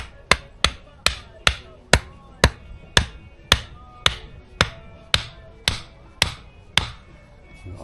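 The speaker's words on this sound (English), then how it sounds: "I love this hammer, and I love these spikes." A handmade wooden hammer drives carved wooden spikes into the ground at a camp, about thirteen sharp, close knocks at an even, unhurried pace, each ringing briefly before the next blow.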